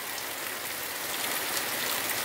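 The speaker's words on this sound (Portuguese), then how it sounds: "aí voltou a chuva com força hoje, hein?" Strong rainfall drums steadily over the countryside at Nicó, Itabaiana, Sergipe, a loud, uniform wash of water noise without any talk.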